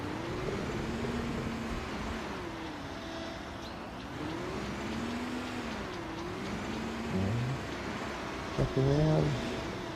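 A backhoe's diesel engine in Construction Simulator on PS5, droning steadily as the machine drives back across a street, pitch rising and falling with throttle, with a few clunks near the end and someone briefly speaking.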